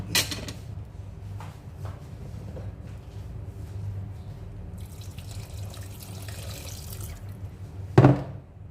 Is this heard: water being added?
yes